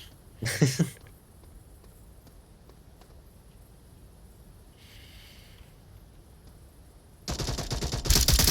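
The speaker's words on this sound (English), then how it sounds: "Shots are coming out from Rosie." A short burst of gunfire near the start of a competitive Onward VR match, then a quiet stretch before a louder rattle of shots near the end; a voice is faint underneath.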